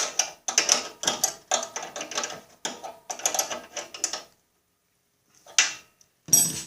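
A nut with a lock washer is tightened on a Snapper mower drivetrain during a rebuild: close, rapid ratcheting clicks in short bursts, a brief pause, then a couple more sharp ratchet strokes.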